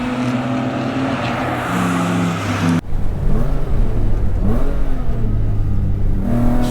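A BMW E36 M3 engine pulls hard while driving, a loud, close in-cabin drone rising in pitch, cutting off sharply at a shift, then climbing again through the next gear, with no talk.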